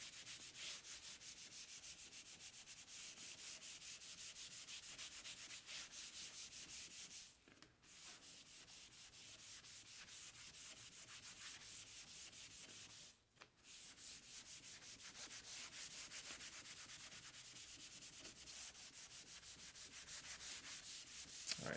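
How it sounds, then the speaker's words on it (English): Abrasive rubs by hand across a wood finish in long, continuous scratchy strokes, quiet and close, broken by two brief pauses. "I'm sure you can hear that abrasive working in this"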